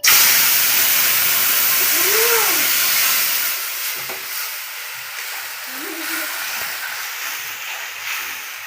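Tamarind water poured into a pan of hot oil tempering for a chana dal bora ambal hits with a loud burst of steamy sizzling that settles into a quieter crackle after a few seconds.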